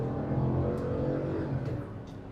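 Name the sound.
SUV engine accelerating at full throttle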